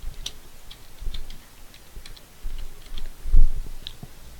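Keys tapped on a computer keyboard, a few sparse, light clicks scattered over several seconds against a quiet room background, with no talking.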